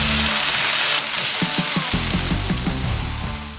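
Steak sizzling in a frying pan at a campsite, a dense continuous hiss with crackling spatter and a few soft clinks and knocks of cooking, close and steady.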